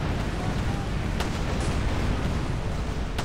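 Pirate ship cannons boom during naval combat in the PC game Tempest, a dense, loud rumble of overlapping blasts with a couple of sharper cracks standing out.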